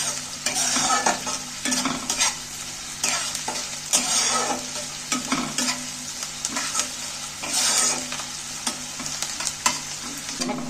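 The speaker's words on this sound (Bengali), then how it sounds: "নাড়াচাড়া তেলের মধ্যে নাড়াচাড়া করতে করতে অনেকটাই কিন্তু ভাজা ভাজা হয়ে যাচ্ছে।" Chopped onions being stirred and fried in hot oil, a steady close sizzle broken by repeated scraping strokes of a spoon against the pan, running continuously with no talk.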